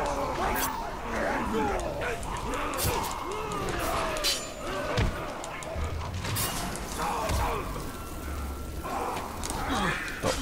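Fire dog from the Shadow of Mordor video game barking and whimpering amid creaking, clanking game effects and a dense, busy background mix, with no clear speech.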